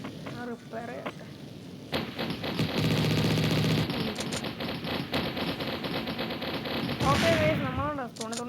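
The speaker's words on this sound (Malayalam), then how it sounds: "നമ്മൾ നല്ല വെടിവെപ്പാണ്" Rapid automatic gunfire from a mobile shooting game rattles in dense, continuous bursts, with a voice talking briefly before and after the shooting.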